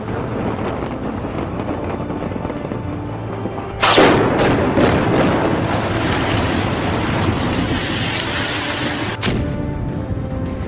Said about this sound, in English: the entire solid structure was blown apart by a series of chillingly precise explosions